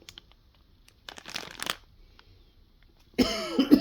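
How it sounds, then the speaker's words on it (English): A single close cough bursts out near the end after soft crinkling of plastic bags from a Schumacher Cougar 2 model kit unboxing. "I've still got the tickly cough going on."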